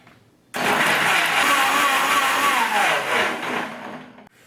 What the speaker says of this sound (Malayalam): ഇനി ഇതെല്ലാം കൂടെ നന്നായിട്ടൊന്ന് ബ്ലെൻഡ് ചെയ്തെടുക്കാം